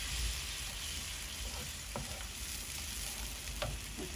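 A paste of chili, turmeric and cumin fries in a pan, sizzling continuously at a low level, with a few soft clinks of stirring.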